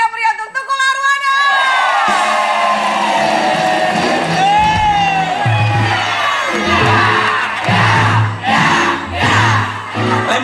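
A studio audience on the Indonesian talk show Bukan Empat Mata cheers, whoops and shouts loudly for Tukul Arwana, a dense, steady roar over a bed of music.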